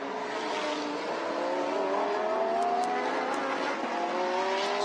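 Lamborghini Super Trofeo race cars on a partly wet Sepang circuit give a steady engine whine, with pitch rising and falling as they accelerate and shift, and a few sharp clicks on top; no one speaks.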